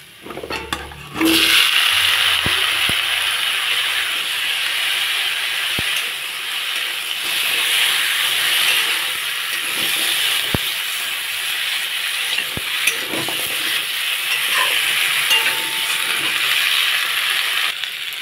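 Freshly cut arum pieces drop into a pan of well-fried spice masala, raising a steady loud sizzle and hiss with occasional stirring scrapes, continuous and close throughout.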